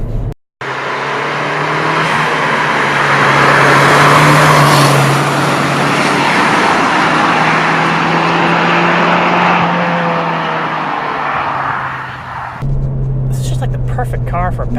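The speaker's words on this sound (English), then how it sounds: "I'm floored, rolling through the gears" A Ford Fiesta ST or Focus ST hot hatch engine roars close up under hard, full-throttle acceleration on a back road, pitch rising through the revs, then a brief gear change near the end.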